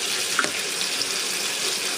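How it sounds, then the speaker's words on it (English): Tap water runs steadily into a washing machine filling for a laundry load, a constant even hiss of flowing water close by with a couple of faint clicks, no voices. "so I just turned on the water"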